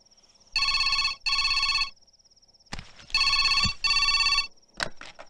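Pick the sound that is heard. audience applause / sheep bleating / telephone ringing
telephone ringing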